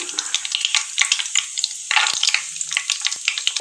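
Peanuts dropped into hot oil that already holds mustard seeds fry in a pan with a bright, steady sizzle and crackle, with scattered pops throughout, close and alone with no talk.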